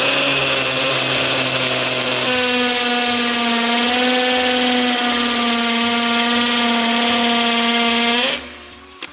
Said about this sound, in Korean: 여기다가 구멍을 뚫고 굉장히 튼튼한 콘크리트예요.